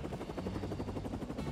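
Helicopter in the co-op video game No Straight Roads: Encore Edition, a steady loud rotor whir with rhythmic chopping pulses running throughout.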